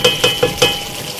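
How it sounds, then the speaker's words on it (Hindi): Mutton being stirred into gravy in a pan, with four quick scraping, clinking strokes of the spoon close by and a soft sizzle beneath, the strokes fading into quiet cooking. "इसे हमें बहुत अच्छी तरह से मिक्स करना है इस ग्रेवी के साथ इस मटन को"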